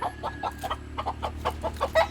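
A brooding hen clucks in a steady run of low, short, repeated notes, close and moderately loud over a faint background hum, with no talking.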